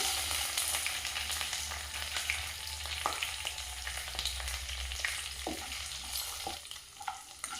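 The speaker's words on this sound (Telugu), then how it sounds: "పప్పు కలర్ మారేదాకా ఫ్రై చేయాలి" Chana dal and urad dal fry in hot oil, giving a steady, dense sizzle with a low hum beneath and a few scattered clicks from stirring.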